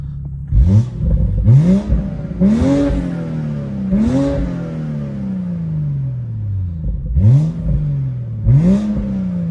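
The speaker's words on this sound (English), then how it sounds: "I'll get you guys some rev clips as well." A BMW N55 engine in a car revs repeatedly on a canyon run, each sharp rising blip followed by a falling whine, loud and close with a steady rumble between the bursts.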